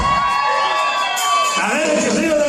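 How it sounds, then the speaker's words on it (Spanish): A crowd of women at a village fiesta in Santa María, Oaxaca, yelling and cheering together, a sustained wall of high-pitched shouts and whoops that swells briefly partway through. "el grito de las mujeres"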